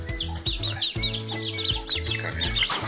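Large broiler chickens clucking close by in a pen, a steady rhythmic run of low throaty clucks with higher chirps layered over it, with no talking.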